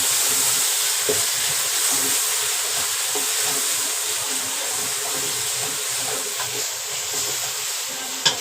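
Tomatoes frying with onions, ginger and garlic in a pan, a steady loud sizzle and hiss with faint stirring scrapes, close and continuous.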